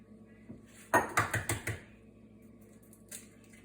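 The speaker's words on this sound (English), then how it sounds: "let's go ahead and crack our eggs" Eggs are cracked into a bowl for persimmon bread, a quick series of about five close clacks and taps against the rim, then quiet with a faint knock near the end.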